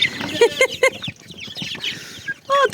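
Medium-sized chicks peep close by in quick, high-pitched bursts, several calls overlapping with scattered soft clucking-like chatter and light rustling.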